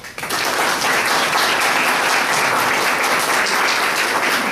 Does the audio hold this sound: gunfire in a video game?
no